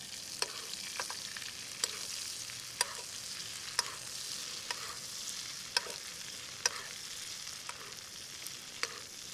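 Lake trout sizzles and fries in a hot pan while being basted, a steady bright crackle broken by sharp spitting pops at irregular intervals, close and fairly quiet, with no talking.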